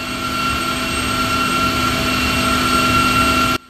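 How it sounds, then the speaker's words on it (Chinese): A rescue helicopter from the government air service flies into a sea of clouds toward a mountain rescue, giving a loud, steady rotor and engine drone with a constant whine that holds evenly throughout, then cuts off abruptly at the end. "空勤直升机飞进云海，准备前往山区救援"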